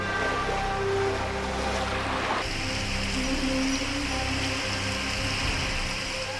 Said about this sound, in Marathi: धौलपूरमध्ये महापूर आलाय।